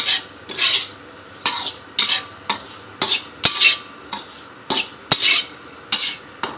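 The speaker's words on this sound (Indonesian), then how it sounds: "Kita gonceng dulu kelapanya." Grated coconut is dry-roasted and stirred in a pan for a Gulai Cincang Kambing dish, giving about a dozen close, rhythmic scraping strokes of a utensil against the pan, with no talking.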